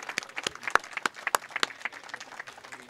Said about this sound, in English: Let's give Jim one more round of applause, please.